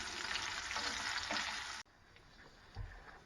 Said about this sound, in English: First thing we're going to do is fry us up some bacon.